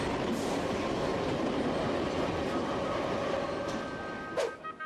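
A train passes close by, a steady broadband rumble with clattering wheels and a thin tonal whine, fading slightly toward the end with a few sharp squeals and knocks.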